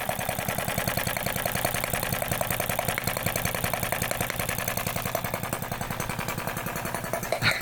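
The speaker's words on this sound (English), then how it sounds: "It's a Chinese made 4-stroke engine." A small Chinese-made four-stroke engine runs close by with a fast, even, hard-edged chugging, its rapid firing pulses steady throughout and no voices over it.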